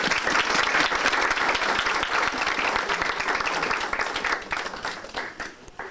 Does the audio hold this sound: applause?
yes